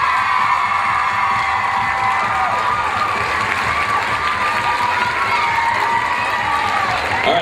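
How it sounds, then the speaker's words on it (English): An audience at a cheerleading championship cheers and shouts for the teams. The loud crowd roar, with high children's shouts and whoops, runs continuously throughout with scattered applause. "let's give a big round of applause to both sets of teams, please"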